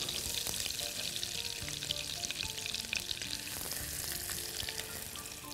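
Onion fries in a mix of butter and oil, a dense close crackling sizzle that stays even and unbroken for several seconds, with no voices.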